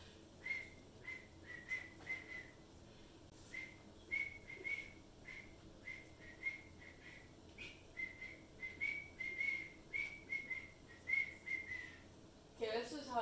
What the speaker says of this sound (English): this is how I really whistle though